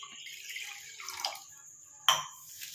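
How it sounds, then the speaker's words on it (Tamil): Water is poured into a kitchen vessel for a coffee-powder hair dye mix, a short trickling splash, a pause, then a sharper close pour near the end, quiet and without talk. "ஒரு முக்கால் டம்ளர் அளவுக்கு இதில் தண்ணி சேர்த்துக்கலாம்"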